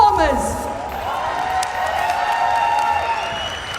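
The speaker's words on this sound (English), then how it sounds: "let's give a big round of applause once again for our lovely performers" Steady crowd applause and cheering roll on throughout at a Pokémon championship event, with a few sustained tones ringing faintly underneath.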